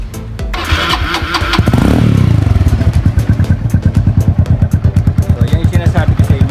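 A custom Honda CB110 motorcycle cranks and fires up, then settles into a loud, rapid, thumping idle right beside the mic, with a patched exhaust still sounding noisy.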